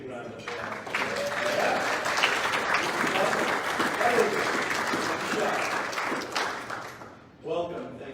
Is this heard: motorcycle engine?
no